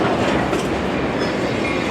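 Metra Milwaukee West Main Line commuter train to Chicago approaching a station, a loud close rumble of wheels on rails with rapid clickety-clack, no voices.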